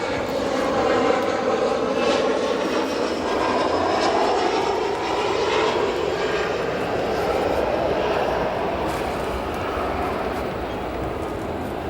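A fixed-wing aircraft passes at O'Hare Airport with a steady, loud engine roar that holds for the whole stretch, broad and continuous with only slow swells, and no talk over it.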